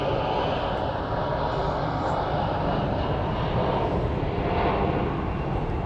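An airliner taxiing at Phoenix Sky Harbor International Airport, its engines giving a steady, loud broadband roar that holds unchanged throughout, with no speech.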